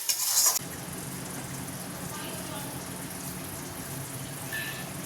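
Spice masala sautéing in a pan for stuffed pointed gourd gives a continuous soft sizzle with faint scraping and stirring. A brief louder clatter sounds at the start.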